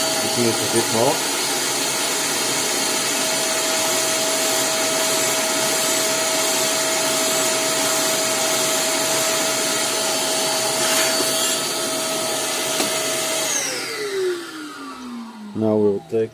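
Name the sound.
vacuum cleaner running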